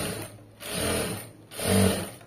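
A sewing machine stitches fabric piping in two short bursts of rapid mechanical whirring, each swelling and easing off, close and clear with no speech.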